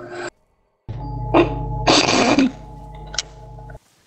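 A single sneeze bursts out indoors between quiet pauses, close and loud, with a short breathy lead-in and a sharp release over a steady electrical hum.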